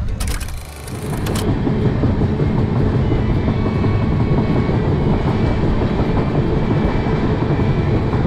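A train rumbles steadily close by at Yelahanka railway station in Karnataka in the evening, a dense continuous roar of wheels and carriages that holds level after a brief quieter moment at the start.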